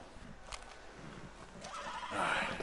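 A horse whinnies after being revived in the western game Red Dead Redemption 2, a short rising neigh near the end that follows faint hoof clops, fairly quiet overall.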